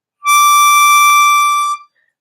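A single harmonica note, D, drawn in through hole 8, sounds bright and steady for about a second and a half before cutting off; close and alone.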